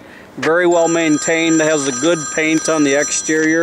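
A mobile phone ringtone plays in a 1997-built single-family home during a real estate tour: a repeating electronic melody of bright tonal notes, running loud and steady under continuous talk.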